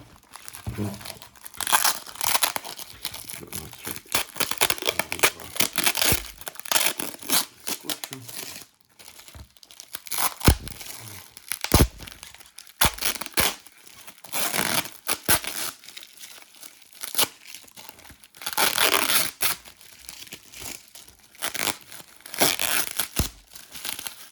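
Repeated crinkling and ripping of tape as a taped parcel of watches is opened, close and loud in bursts, with short pauses between pulls.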